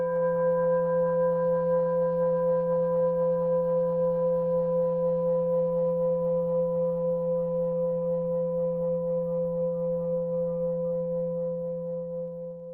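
A meditation bell struck once to open a sitting, ringing with a clear sustained tone and bright overtones that slowly fade across about twelve seconds, heard alone.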